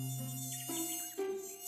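A high whining mosquito buzz from a cartoon drones on steadily, close and loud, its pitch sliding up and down as the insect flies around. No one speaks.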